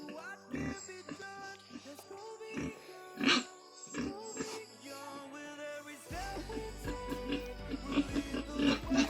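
A pig grunting and squealing nearby in a rural home setting, with repeated harsh bursts and snorts mixed with people talking close by.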